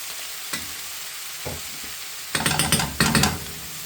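Butter sizzling in a hot pan for beef stew, a steady close hiss with a few soft knocks and then bursts of louder crackling spatter.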